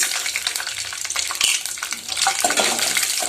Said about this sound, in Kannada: ಅದು ಎಣ್ಣೆಯಲ್ಲಿ ಏನಾಗಬೇಕು ಚಟಪಟ ಸಿಡಿಬೇಕು